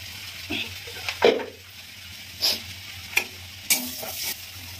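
Cumin seeds and dried chillies sizzle and crackle in hot oil left from frying prawns, with a few sharp spatters and stirring scrapes over a low steady hiss.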